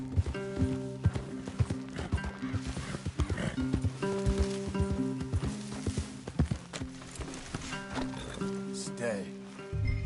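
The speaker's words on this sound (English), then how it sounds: "Leave the horses in the trees there." Horses walk in a video game, with hooves clip-clopping in an irregular rhythm over a steady musical or ambient bed. Occasional snorts sound at moderate volume.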